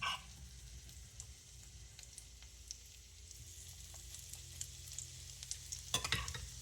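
Oatmeal burger patties frying in oil, a faint, low sizzle with scattered small crackles and pops that grow somewhat busier toward the end.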